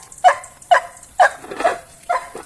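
A dog being fed a pork trotter gives short, high whimpering yips in quick bursts, about five close cries with brief pauses between them.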